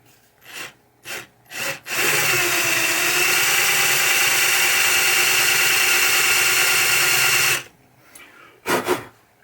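A drill bit countersinks holes through the clear coat of a 1980 Williams Firepower pinball playfield, giving a loud, steady grinding whir for about six seconds, with short taps and bumps before and after.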